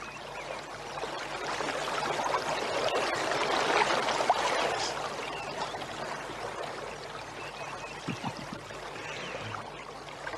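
A river current carries a small wooden boat, giving a steady broad rush and trickle of flowing water that holds throughout, with a few brief knocks near the end.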